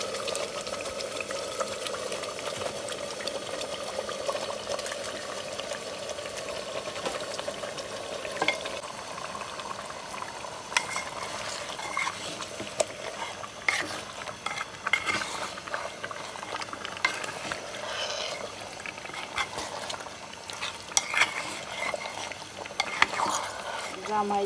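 Beef going into a clay pot of fried-down spices, with a steady close sizzle and bubbling frying sound throughout and occasional stirring scrapes, no voices.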